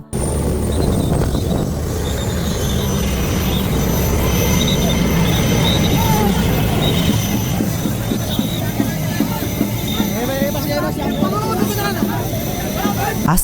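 A loud, steady roar of a six-seat helicopter, the engine and beating rotor droning close by without letup, heard while riding in it, with a faint murmur of voices in the background.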